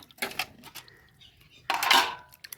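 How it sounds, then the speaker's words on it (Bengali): Metal pots clatter and water sloshes as fish are washed in a village kitchen, with two louder bursts of scraping and splashing separated by quieter clinks. "মাছ নিয়ে এনেছি সকাল সকাল একবার ধুয়ে নিয়েছি আবার একবার ধুচ্ছি দুবার ধুয়ে ধুয়ে নিচ্ছি"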